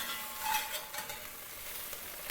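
Beef spread out in a pan and left to sear for stroganoff, a quiet steady sizzle with a brief clink of a utensil near the start, close with no voices.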